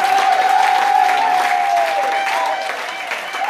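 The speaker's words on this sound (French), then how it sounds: "Acclamez très fort le roi des rois." A church congregation at a French-language service applauding the King of Kings, loud dense clapping with a faint sustained tone above it, easing slightly toward the end.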